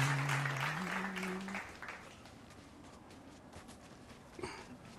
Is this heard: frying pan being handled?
no